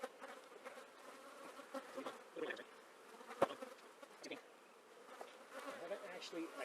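Honey bees hum steadily inside an open hive during an inspection, a soft, dense buzzing with scattered sharper buzzes and one brief knock of handling midway.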